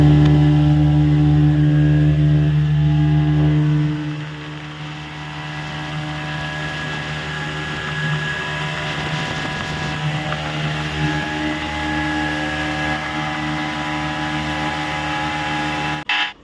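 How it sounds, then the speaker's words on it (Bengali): Motorboat engine droning steadily on water, loud and close throughout, with a strong low hum that drops slightly after the start and continues as the speedboat runs fast; no talk. "ভীষণ জোরে চলে স্পিড বোট"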